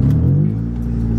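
A lowered stance car's engine revs hard under heavy throttle, a loud, close, rising roar that settles into a steady drone.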